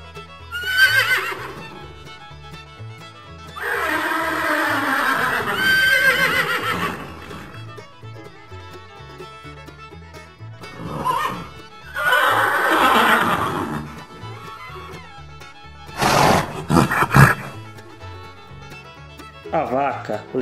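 Several horses whinny in loud, shrill bursts spaced apart, with quiet stretches and faint background noise between the calls.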